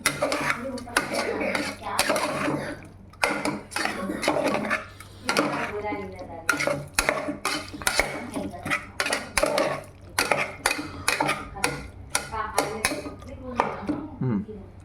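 Salt being stirred into semiya biryani in a pot, with clinks of a metal spoon against the vessel sounding under almost continuous talking.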